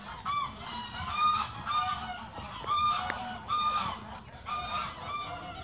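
Several brown Sinaleiro geese keep up a steady clamor of honks, close by, the nasal calls rising and falling in irregular bursts.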